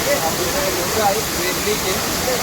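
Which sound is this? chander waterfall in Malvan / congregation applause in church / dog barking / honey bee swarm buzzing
chander waterfall in Malvan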